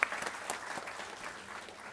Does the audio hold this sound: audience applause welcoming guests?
yes